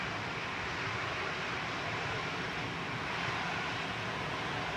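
Ryanair Boeing 737-800 lining up at Manchester Airport for Budapest, a steady broadband jet roar heard from a distance, with no talk.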